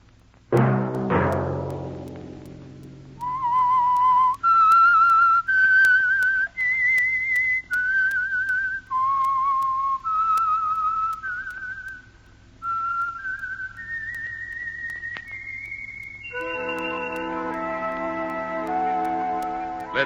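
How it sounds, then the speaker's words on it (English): A lone whistler carries the theme tune of The Whistler radio mystery, a slow melody of distinct held notes rising in pitch, clear and close after a brief opening sting of music. "Let that whistle be your signal for the Signal Oil program, The Whistler"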